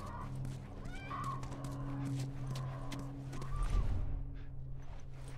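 Horse hooves in The Last of Us video game, a soft clip-clop of hooves with a snort and shuffling against a low game ambience and faint tonal hum, fairly quiet and with no talking.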